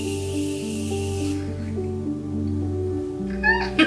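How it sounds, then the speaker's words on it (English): A short hiss of Morphe makeup setting spray sounds for about a second, followed by quiet background with a low hum and a few soft clicks. "I'm just going to close off today's look with this Morphe setting spray."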